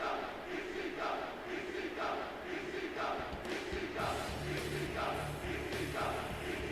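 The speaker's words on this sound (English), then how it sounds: "Finally, the crowd sounds like an ECW crowd" Crowd chanting from the PS1 wrestling video game ECW Hardcore Revolution, a rhythmic repeated chant over a steady arena roar, with a low musical hum entering partway through.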